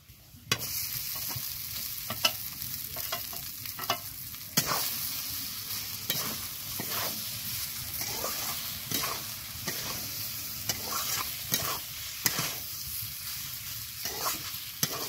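Potatoes with chili flakes, turmeric and salt being stirred in a pan for a spicy filling, giving a steady sizzle throughout with repeated scraping stirs and a few sharp utensil knocks, no voices.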